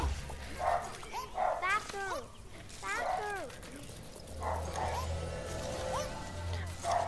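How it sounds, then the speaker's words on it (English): A dog barks in a backyard, giving repeated yips and barks in short bursts. The sound comes from some distance under other background sounds. "My dog's going crazy in the backyard"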